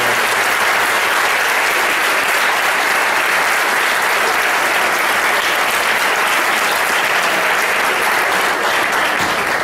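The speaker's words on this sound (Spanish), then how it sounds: "un verdadero aplauso a vosotros que apoyáis esta iniciativa" Concert audience gives loud, sustained applause, a thick unbroken roar of many hands clapping close to the microphone for nearly ten seconds.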